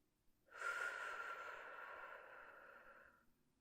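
A slow, deep breath drawn close to the mic during a lung check at a medical exam, one long airy inhale or exhale lasting a few seconds and fading out alone, with no talk.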